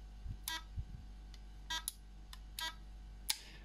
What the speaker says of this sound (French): Ce petit bip à chaque fois n'est pas enlevable.